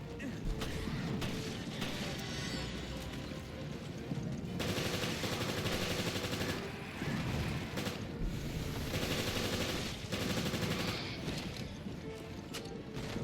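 Submachine gun fire in Resident Evil Revelations, a dense stream of rapid shots running through most of the stretch with brief gaps, mixed with game sounds and a talking voice.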